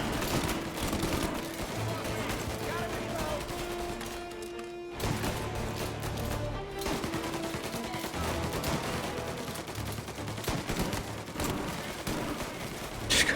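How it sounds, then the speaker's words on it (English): Tommy gun fire in a gangster video game, in sporadic bursts mixed with other gunshots and a brief near-silent gap midway, loud and close under a voice talking along with background music. "Shoot one at a time, these remaining Tommy gun rounds."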